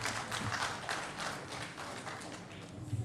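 An audience at a peace and security forum in Ghana claps after a speech, a faint, steady patter of many hands sustained throughout without voices.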